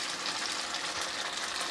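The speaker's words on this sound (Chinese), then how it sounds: "咁我哋又煎咗咧" Chicken wings pan-frying over a low flame for a black olive and black bean sauce dish give a steady, dense sizzle with fine crackle throughout, close and continuous, with no talking.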